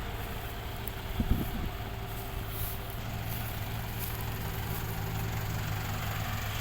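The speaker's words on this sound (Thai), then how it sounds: "มีรถน้ำวิ่งตาม" A water truck's engine runs continuously at a low, even rumble, following a sugarcane planter in a field, with a brief louder knock early on and no voices.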